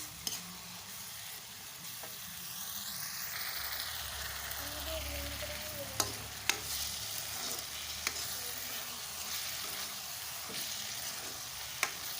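Stuffing filling for bitter gourd (karela) frying in a pan: a steady, low sizzle runs throughout, with a few sharp clicks of a spoon stirring and no voices.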